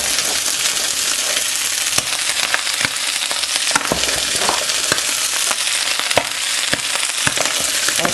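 Cooked rice sizzling and frying in a hot pan for fried rice alongside meat, a steady loud crackle with repeated sharp scraping and stirring knocks throughout.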